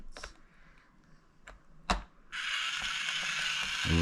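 Toy screwdriver turning a blue plastic screw on a DIY building toy, with a few sparse clicks and taps followed by a steady whirring, ratcheting drive sound that continues to the end.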